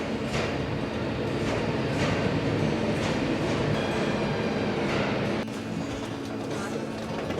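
A train bound for Sofia rumbles at the station with a steady mechanical drone and wheel clatter, fairly loud and close, while people talk nearby.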